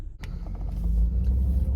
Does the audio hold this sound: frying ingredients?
no